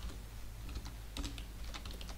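A computer keyboard is typed on while HTML code is entered, a brief run of quick, close, steady key clicks with no voices.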